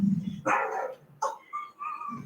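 A dog barks and yips several times in quick, uneven bursts, close and fairly loud, with a brief whine-like tone between barks.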